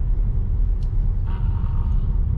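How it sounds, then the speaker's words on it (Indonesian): Steady low car engine rumble from inside a moving car circling a cemetery, continuous and fairly loud with no talking. "Saya akan mengelilingi dulu menggunakan mobil"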